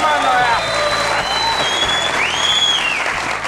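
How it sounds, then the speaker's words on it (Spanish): An audience applauding at a Colombian tribute show, with loud, sustained clapping throughout and voices talking over it. "Un aplauso, por favor, para Sincero."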